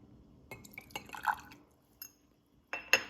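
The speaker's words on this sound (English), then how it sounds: "Let's start adding 1 milliliter water." Water being added to a laboratory test tube, giving faint drips, small splashes and light glass clinks in short bursts amid quiet pauses.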